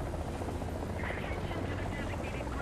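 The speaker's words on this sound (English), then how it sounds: "Does not sound like a friendly helicopter." An enemy attack helicopter in War Thunder, Shturm-S gameplay, gives a steady, dense rotor and engine drone that fills the whole moment without a break.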